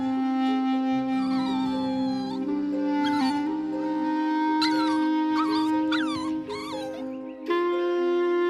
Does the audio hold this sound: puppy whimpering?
yes